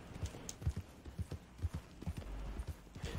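Horse hooves clip-clop steadily in a video game, a run of close, even thuds at a trotting rhythm, fairly quiet with no talk over them.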